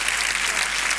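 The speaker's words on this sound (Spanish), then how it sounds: "Un aplauso de este señor." An audience at a magic show claps steadily for a volunteer, a dense, even burst of applause filling the whole moment.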